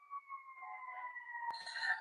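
An ambulance siren passes along a Los Angeles city street, a loud, steady wailing tone that holds throughout, with a sharp bang partway through.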